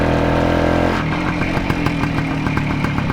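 A Soviet Voskhod motorcycle engine runs loud and near, shifting from a smooth hum into a rapid, rhythmic two-stroke putter with steady clattering pulses.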